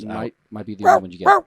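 A person imitates a dog, giving three short voiced bark-like yelps with a pause after the first, close to the microphone, and a brief spoken remark follows.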